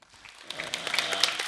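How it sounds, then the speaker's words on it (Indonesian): Clapping at a Pramuka scout movement anniversary gathering starts from near quiet and quickly swells into brisk group applause, with sharp individual claps standing out over the growing crowd. "Tepuk yang meriah."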